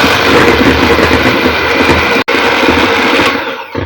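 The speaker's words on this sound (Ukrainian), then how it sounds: "Включаю міксер і підбиваю масло до біла." Loud close whirring drone of an electric hand mixer whipping butter in a bowl, steady and continuous, with a brief cut near the middle and tapering as it stops.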